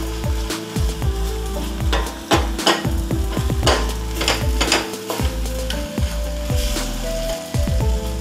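Cooked tomatoes being mashed and stirred in a cooking pan while making egg masala, with continuous close sizzling under repeated soft scraping and pressing strokes of a utensil against the pan.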